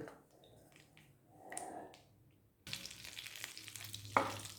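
Quiet stirring at first, then a soft, steady sizzle of cinnamon and cloves frying in hot butter and oil, with a brief clink near the end.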